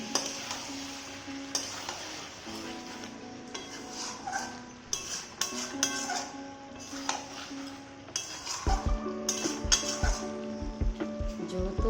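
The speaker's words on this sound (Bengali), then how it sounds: "একটু নাড়াচাড়া দিচ্ছি" Meat cooking in a pot being stirred, spoon clinking and scraping against metal in irregular bursts over a faint sizzle, with a steady tonal hum in the latter part.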